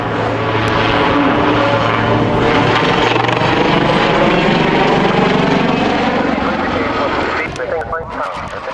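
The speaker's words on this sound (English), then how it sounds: "watch here from a stationary hover, it goes straight into a somersault." A helicopter at an airshow in Ulster performs a somersault from a stationary hover, its engine and rotor roaring loudly and steadily, then easing off near the end, with a commentator talking over it.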